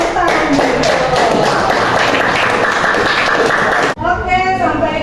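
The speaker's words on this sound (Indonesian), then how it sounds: "Tepuk tangan." Classroom of students clapping together for a group for about four seconds, a close, busy patter of hands that stops abruptly, followed by a brief voice.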